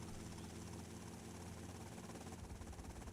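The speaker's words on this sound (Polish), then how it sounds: "O, leci już nasz helikopter." A helicopter in the GTA Vice City video game gives a steady, dense rotor and engine drone that fills the whole clip at an even level, with no talk.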